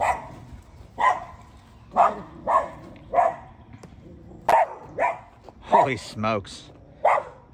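Happy dogs bark repeatedly on a disc golf course, in fairly regular bursts about a second apart, fairly close. A voice briefly speaks over them near the end.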